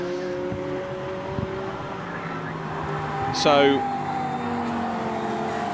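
A Porsche GT race car runs at Oulton Park, a steady engine drone under commentary, with a brief sharp whoosh as it passes close by midway through.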